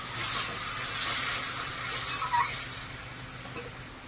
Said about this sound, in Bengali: মশলাটা কষানোর সময় সামান্য একটু জল দিচ্ছি।